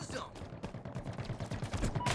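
Rapid gunfire from a multiplayer match in Halo Infinite, a steady stream of close shots rattling on for about two seconds, with players' voices talking underneath.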